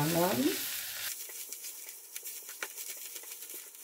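Ingredients for an onion flower buttermilk curry stirred in a frying pan: a brief burst of hot sizzling gives way to quieter scraping and light tapping strokes of the spoon, close and without talk.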